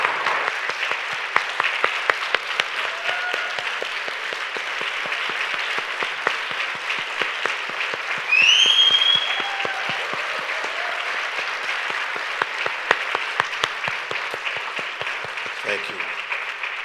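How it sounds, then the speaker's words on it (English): A town hall audience claps for the panelists in a steady, full round of applause lasting the whole stretch, with a brief high whistle-like tone cutting through midway. "Can you help me give our panelists a round of applause?"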